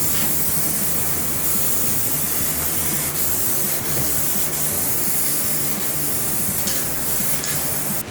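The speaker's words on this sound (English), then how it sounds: "Do we think I'm gonna have enough paint to do this whole bumper?" Aerosol spray paint can hissing steadily and loudly as it coats the bumper of a Dodge Charger R/T, a continuous broad close-up spray with brief pauses and no talking.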